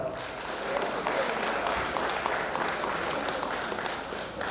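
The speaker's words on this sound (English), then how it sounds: "Let's welcome him with a huge round of applause." Sustained applause from an auditorium audience at a college event, steady and dense clapping throughout with faint crowd murmur underneath.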